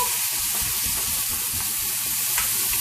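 Ingredients, including fresh ginger root, sizzling in hot olive oil in a pan for Singapore shrimp, a steady close crackling fry with faint stirring, no voices.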